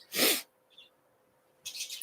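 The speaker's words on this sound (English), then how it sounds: "I've been sneezing like crazy today." A sharp, loud sneeze bursts out close by, followed by a faint chirp and then a breathy rustle.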